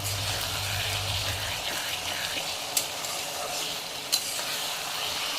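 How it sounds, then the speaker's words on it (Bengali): Small kechki fish fry in oil in a pan, a steady bubbling sizzle with a couple of sharp clicks from stirring. "এখন আরেকটু ভাজা ভাজা করবো"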